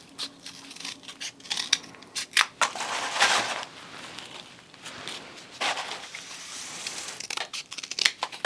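Scissors cutting through cardstock to shape tiger piñata ears, a run of crisp, close snips and rustles in uneven bursts with no talk.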